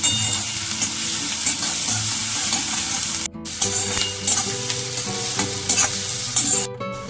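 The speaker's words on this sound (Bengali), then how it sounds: "পেঁয়াজগুলোকে ভালো করে নাড়াচাড়া করে ভেজে নেব।" Chopped onions fry in hot oil for a coriander chicken dish, a loud, continuous sizzle close up with repeated scraping and clattering from a spatula stirring the pan, no voices.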